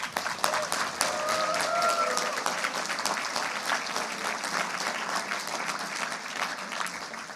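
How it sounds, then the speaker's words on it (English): An audience at a school Model UN closing ceremony applauds steadily, with sustained, fairly close clapping that fills the room. "They deserve a round of applause."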